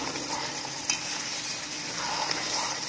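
Chicken meat for biryani being stir-fried in a pan with hot water added a little at a time, giving a steady close sizzle and faint scraping of stirring, with a brief clack near the start and no talk.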